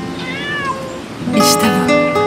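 A cat meows several times, the calls rising and falling in pitch, close and clear, ending in a louder, more insistent meow over faint background noise.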